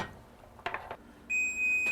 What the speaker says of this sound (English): And there goes our timer again